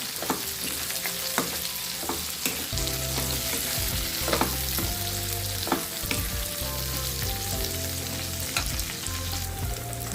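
Onions sautéing in a pan with slit green chilies and curry leaves sizzle steadily and loudly, with occasional stirring scrapes and clicks throughout; a low rhythmic hum runs underneath.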